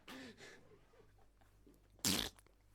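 A fart from a person named in passing, a short loud burst standing out near the end after faint murmuring earlier.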